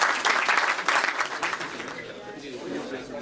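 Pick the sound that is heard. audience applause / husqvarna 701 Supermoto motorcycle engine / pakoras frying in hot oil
audience applause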